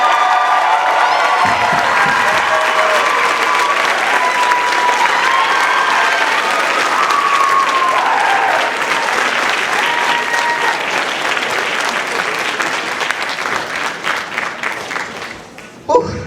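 A large theater audience at a stage musical claps steadily for a long stretch, with scattered cheers and whoops, the applause gradually thinning out toward the end.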